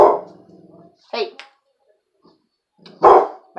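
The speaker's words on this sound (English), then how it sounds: "My puppy is barking at people passing by my apartment window." A puppy in an apartment barks at people passing the window, giving a few sharp, close barks separated by stretches of near silence.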